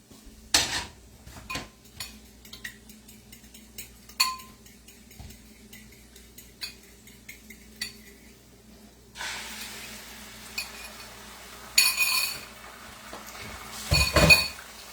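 Eggs cooking in a kitchen with pans and utensils produce sparse, light clinks and taps, with a couple of louder clatters near the end.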